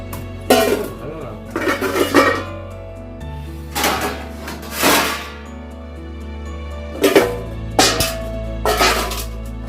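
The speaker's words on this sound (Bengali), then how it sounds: "এখন এই বাসন কটা জায়গা মতো একই রেখে দিচ্ছি" Dishes and pots clatter and clink in bursts as they are set down and stacked, with someone talking over the clanking throughout.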